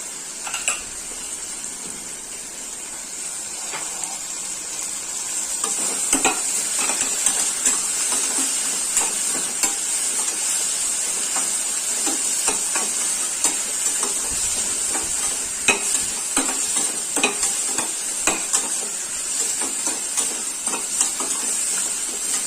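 Onion and tomato sautéing in a pan for chicken gravy, a steady close sizzle with scraping stirs and occasional utensil clinks. The sizzle grows louder and busier partway through and carries on continuously.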